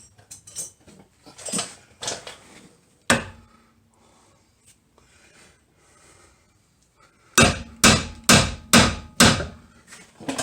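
Metal hammer taps driving a long bolt into the sway bar of a C4 Corvette, a few sharp strikes early, then a single hit and a quiet pause, followed by a rapid run of loud, close, evenly spaced blows near the end.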